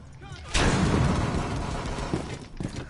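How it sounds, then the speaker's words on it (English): A flashbang grenade goes off in Rainbow Six Siege, a sudden loud blast that rings out and fades over a couple of seconds, with a voice speaking just before it. "Lobbing a flashbang."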